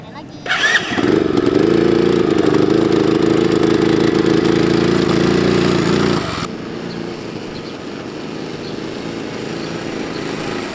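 A mini trail motorbike engine starts and then revs loudly in a steady drone for several seconds before dropping away, leaving quieter background noise.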